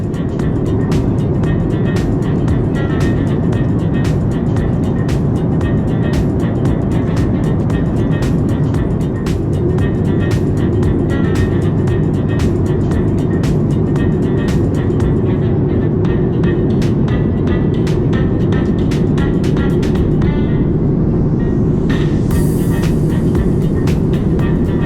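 Steady, loud engine roar and airflow inside a Bonza airliner cabin as it descends into Newcastle, unbroken throughout, with faint clicks and rattles on top.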